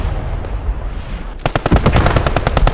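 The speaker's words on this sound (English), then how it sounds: "We have set up an MG though." During a video game match, a quiet ambient stretch gives way to a sudden, loud burst of rapid machine gun fire that continues to the end.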